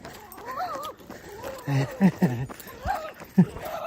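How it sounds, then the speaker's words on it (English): A small dog yaps and whimpers in short high-pitched bursts during an outdoor trail run, a few sharp barks near the microphone amid footsteps and background noise. "I'm sure that little dog thought he was fierce, but it was like the highest pitch kind of."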